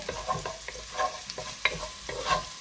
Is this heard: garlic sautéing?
yes